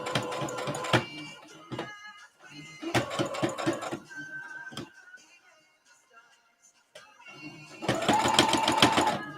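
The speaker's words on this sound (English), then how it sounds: "sew the first part" A sewing machine stitching a corset top made from a Butterick pattern runs in close, loud bursts of rapid mechanical chatter, stopping and starting several times with short quiet gaps between runs.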